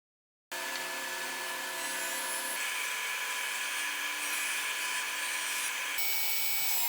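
Homemade table saw cutting wooden boards: a loud, steady high-pitched whine begins abruptly after a short silence and runs continuously, its tone shifting slightly as the blade bites through the wood.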